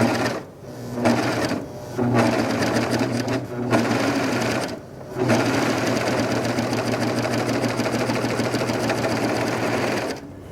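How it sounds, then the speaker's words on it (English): A Bernette coverstitch machine stitching a fabric strip through a Bernina binder, running in a steady loud mechanical whir with several brief pauses early on, then a long continuous run. A voice talks quietly underneath. "Now as you stitch, you're just letting the fabric feed in all by itself and gently holding the fabric strip."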